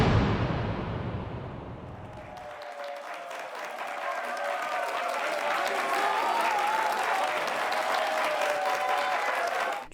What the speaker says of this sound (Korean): 사람들의 환호 소리를 따라 방 안으로 들어가 보는데